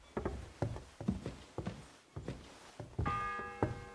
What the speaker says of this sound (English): Have you not heard the bells?